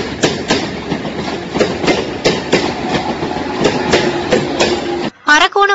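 An electric train running on rails from Arakkonam railway station toward Chennai Central, with a loud, steady rhythmic clickety-clack of wheels over rail joints that breaks off abruptly near the end.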